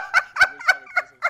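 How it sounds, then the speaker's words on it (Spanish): A duck gives five quick, raspy quacks in an even rhythm, loud and close, with no talking. "Ese pato ni siquiera es de esta región"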